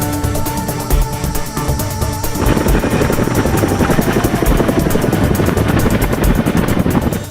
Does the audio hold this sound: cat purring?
no